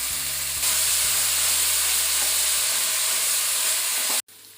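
Chopped onions with a pinch of salt sautéing in oil in a pan, a loud continuous sizzle and hiss up close that cuts off abruptly near the end.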